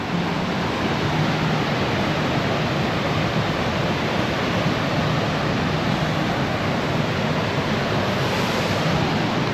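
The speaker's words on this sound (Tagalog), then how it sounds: "Kaya narinig yung ragasan ng tubig no." Steady, loud rushing water of the river in Johnston Canyon, Canada, roars without pause, a dense broadband wash like a fast river close by.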